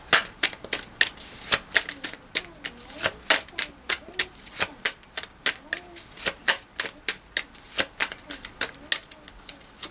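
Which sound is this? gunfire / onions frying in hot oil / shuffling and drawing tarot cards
shuffling and drawing tarot cards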